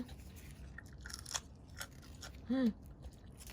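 Crunchy bites and chewing on a raw artichoke petal, close to the mic, with a short voiced murmur partway through.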